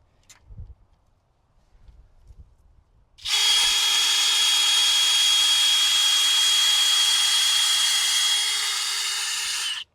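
A power drill with a 1.5 inch auger bit kicks in after a few quiet seconds of faint outdoor knocks, then whines loud and continuous for about six seconds before cutting off abruptly.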